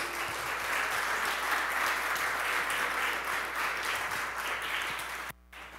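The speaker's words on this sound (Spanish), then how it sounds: "denle un aplauso de alabanza al Señor" A church congregation claps in praise to God, a dense, loud, sustained wash of applause from many hands that runs steadily before cutting off abruptly near the end.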